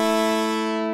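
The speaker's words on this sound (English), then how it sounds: "you get a pulse wave like this" A steady pulse wave from a software synthesizer, a bright buzzy tone rich in even harmonics, held at one pitch for about a second at constant loudness and cut off sharply at the end.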